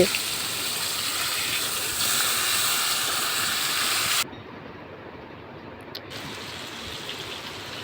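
Pangas fish frying in hot oil, a loud continuous hiss and sputter that suddenly drops to a quieter sizzle midway, with a brief clatter afterward.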